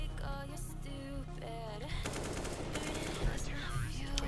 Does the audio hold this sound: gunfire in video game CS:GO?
yes